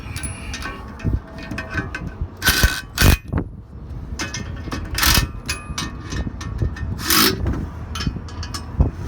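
Set screws being tightened into a metal hitch casting during assembly, heard as a run of close scraping, rasping and rubbing strokes with occasional sharp metallic clicks, no talking.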